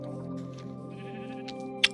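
A sheep bleats in the Minecraft video game, a short wavering call over a steady hum of game background sound, followed by a sharp click near the end.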